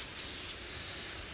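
A nearly empty spray can sputters outdoors, giving a faint, thin continuous hiss with a couple of brief stronger bursts and no voices.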